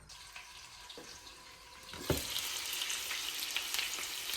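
Longganisa sausage sizzles in a pan, a soft crackle that swells into a louder, steady frying hiss about halfway through, close and alone with no talk.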